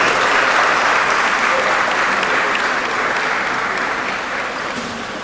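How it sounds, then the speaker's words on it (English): Applause from a large audience at an annual New Year school and conference in Ghana, a loud dense wash of clapping that tapers off slowly toward the end. "Please let's give her another round of applause."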